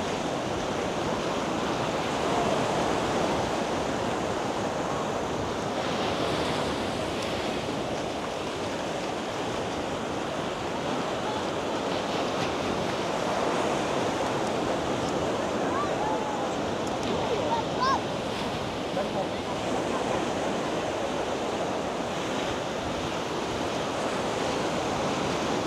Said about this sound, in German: Ja, der Wind hat auch ganz schön aufgefrischt jetzt